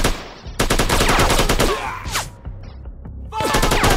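Gunfire in the video game Shutter: rapid bursts of automatic shots crackle loudly in dense volleys, with short gaps and a whooshing effect between them.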